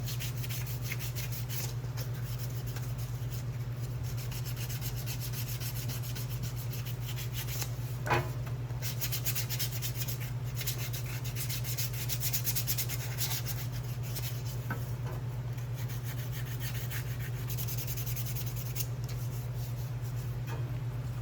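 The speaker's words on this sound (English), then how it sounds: "let's see if this is dry enough to sand this thing" A rusty car part is sanded in a long run of continuous, even rubbing and scraping strokes, close and steady, over a constant low hum, with a single sharp tick partway through.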